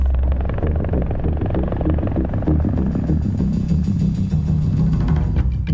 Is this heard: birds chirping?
no